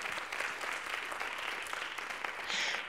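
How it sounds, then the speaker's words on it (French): Audience at the closing of an education conference applauding two people, a fairly quiet, steady wash of many hands clapping from a moderate distance, swelling briefly near the end. "un applaudissement pour eux"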